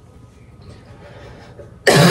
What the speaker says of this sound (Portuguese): Olha que tosse, gente.